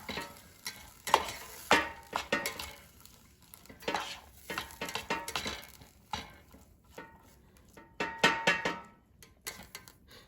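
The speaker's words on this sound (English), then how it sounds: "we're going to mix this cauliflower rice so it cooks evenly" Cauliflower rice being mixed in an air fryer basket, with clattering scrapes and metallic knocks in uneven bursts, with a faint sizzle between them.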